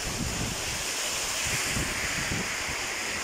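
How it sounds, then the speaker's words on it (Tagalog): A dense, constant roar of heavy typhoon rain mixed with gusting wind buffeting close by in Northern Leyte, Philippines, loud and unbroken throughout, with no voices. "Grabe yung ulan sa amin yan guys. Ang lakas ng ulan. Lakas ng hangin guys."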